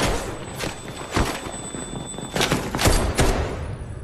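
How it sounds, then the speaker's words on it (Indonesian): Gunfire in an action film soundtrack from Take Point (2018): a scattered volley of sharp shots and thuds, several bursts clustered near the middle and end, loud against a busy background. "Akibatnya, Hosea tertembak oleh musuh."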